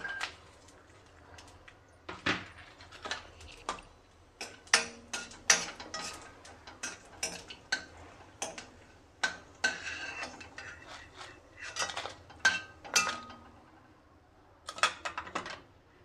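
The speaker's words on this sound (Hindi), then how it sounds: "अब सभी ड्राई फ्रूट को रोस्ट कर लेते हैं। सबसे पहले फ्लेम को लो कर देंगे। सबसे पहले अखरोट डालते हैं।" Walnuts dry-roasting in a pan over a low flame, scattered dry clicks and rattles as the nuts shift and are stirred, close and quiet over about sixteen seconds.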